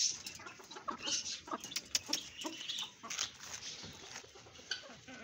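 Desi chickens cluck softly in the distance, with scattered short calls over a quiet outdoor background and no one talking.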